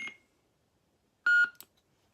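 Two short electronic beeps from a SaberForge Outcast lightsaber hilt changing sound font, separated by a pause of over a second, crisp and close, with near silence in between.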